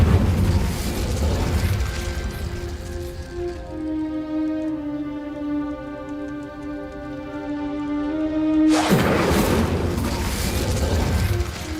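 The Confringo fire spell in Hogwarts Legacy bursts with a broad, crackling blast, then gives way to a sustained ringing, humming magical tone for several seconds before another loud fiery burst takes over.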